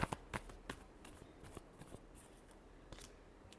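Tarot cards being shuffled at close range, a run of sharp riffling flicks and soft slaps with irregular spacing, fairly quiet, with no talking.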